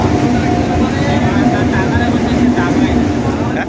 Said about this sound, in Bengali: এখন আমি রয়েছি লক্ষ্মীকান্তপুরগামী লোকাল ট্রেনে